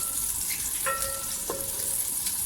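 Chopped onions frying gently in oil for kadhi pakora, a soft steady sizzle close by with a couple of brief clinks of a spoon against the pan, no voices.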